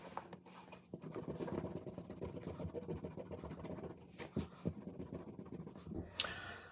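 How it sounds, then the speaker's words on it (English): Pencil drawing rubbed with an eraser, a continuous quiet scratchy scrubbing with rhythmic back-and-forth strokes, close up, ending in a few taps. "Now I'm going to erase."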